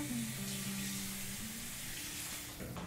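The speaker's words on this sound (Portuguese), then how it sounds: "Agora aqui vou adicionar 200 ml de água" Water, about 200 ml, pours into a cooking pan with a steady rushing flow and a faint sizzle beneath it, ending near the close without any voices.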